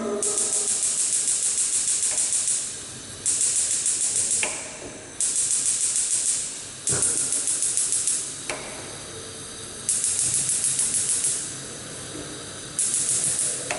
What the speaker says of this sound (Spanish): tenemos sus 4 fogones funcionando a su llama máxima